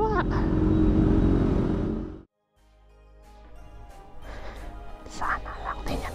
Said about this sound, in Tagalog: Sana lang din niya narinig yung tunog big bike.